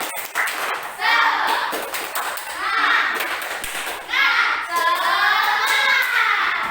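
Schoolchildren in an Indonesian classroom clap hands in a rhythmic chant, many young voices chanting loudly with dense repeated claps, close and lively throughout.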